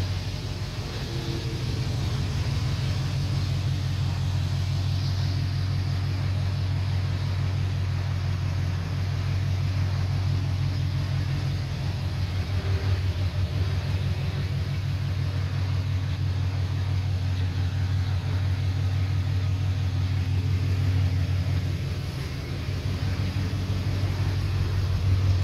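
A Dodge Ram truck with a Fastman throttle body idles with its exhaust cutout open, giving a loud, deep, steady rumble that holds close and even throughout, with no talking.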